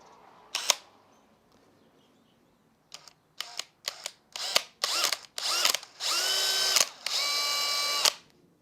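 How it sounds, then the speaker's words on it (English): A small bit in a power drill bores a pilot hole in plastic in a series of short, sharp whirring bursts that lengthen into two sustained runs, close and loud against a quiet background. "we're going to go ahead and hit that center with a small bit so we don't get any wander."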